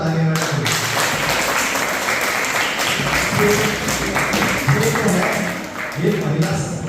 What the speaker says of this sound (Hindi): जोरदार तालियां मैडम